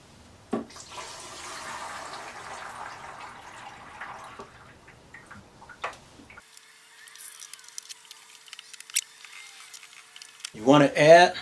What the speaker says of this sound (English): You want to add some warm water first